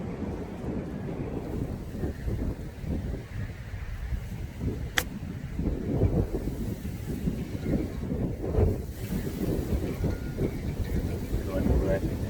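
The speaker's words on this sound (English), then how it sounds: "this wind" Steady wind buffets the microphone on an open golf course in South Pembrokeshire, a continuous low rumbling roar running throughout with gusty swells and a brief sharp click partway through.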